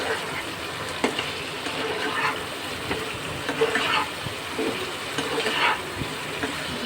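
Spices and vegetables fry in a pan with a steady sizzle, broken by repeated scraping and stirring strokes of a utensil against the metal, close and fairly loud.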